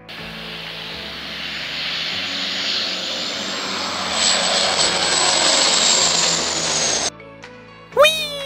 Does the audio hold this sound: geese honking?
no